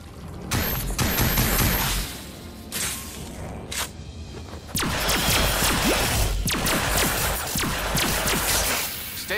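Rapid gunfire bursts and mechanical whooshes from the Star Trek video game on PS3, dense and loud with brief gaps between volleys, no voices.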